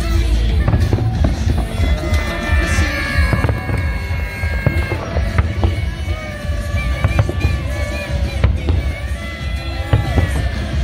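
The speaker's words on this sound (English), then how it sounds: "I'm surrounded by fireworks." Fireworks burst and crackle all around at Kings Island amusement park on New Year's Eve, a dense, loud, continuous barrage of close pops and explosions without a break.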